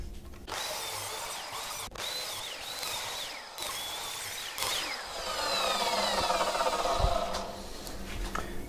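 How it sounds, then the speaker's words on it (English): A chop saw trims the live edges off a piece of wood meant for a turned bowl, with a loud sustained motor whine and cutting noise running through most of the clip, rising toward the end. "I will be using the chop saw, which isn't ideal, but hopefully it should just allow me to take the edges off"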